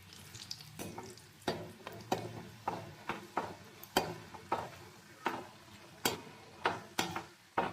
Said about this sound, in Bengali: এবার এগুলো আমি এভাবে উঠিয়ে নেব হাতের সাহায্যে, আর তেলের মধ্যে দিয়ে দেবো।